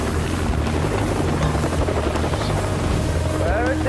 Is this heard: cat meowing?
no